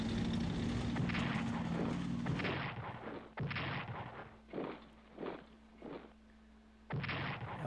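Heavy artillery fire in a Strategic Command WW2 war-in-Europe battle: a dense opening barrage, then several separate loud booming shots spaced a second or so apart against a low steady rumble.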